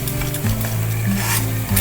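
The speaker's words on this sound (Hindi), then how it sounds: "सूजी को भूनना है हमने" Semolina being roasted in desi ghee in a pan for suji halwa is stirred steadily, giving a close, continuous scraping sizzle with a low hum underneath.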